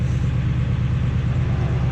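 A 7.3 diesel truck engine with 294k miles idles steadily, with a loud, close, even low rumble and no talk over it.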